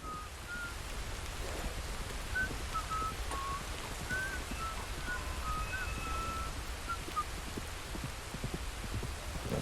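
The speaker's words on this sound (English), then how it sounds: "Who's whistling? Is it me? No, there's somebody up here." A character whistles a wandering tune in Red Dead Redemption II, faint and steady beneath continuous heavy rain, with no talking.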